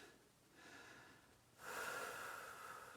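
Heavy breathing from someone doing a roller and plank workout: a quieter breath first, then a louder, rougher breath with a wheezy edge, close to the microphone and with no talk.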